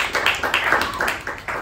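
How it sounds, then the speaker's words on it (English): A small Toastmasters club meeting gives a short round of applause to a member: a few people clapping briskly and unevenly for under two seconds, close and moderately loud, with no talking over it. "a big round of applause to Toastmaster Gajendra"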